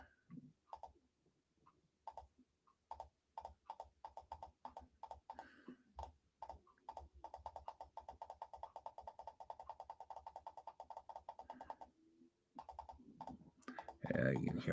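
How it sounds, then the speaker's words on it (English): Close, rapid computer mouse and keyboard clicks come in irregular bursts and steady runs, fairly faint, while someone searches through downloaded photos, with a short pause and a louder noise at the end. "Yeah, you can hear me clicking."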